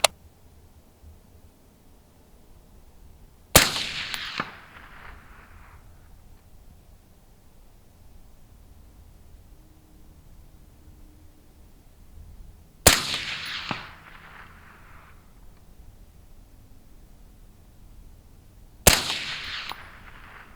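Three loud, close AR-15 rifle shots firing 24.6-grain handloads at an outdoor long-range session, each a sharp crack with a brief decaying echo, spaced several seconds apart over quiet wind noise.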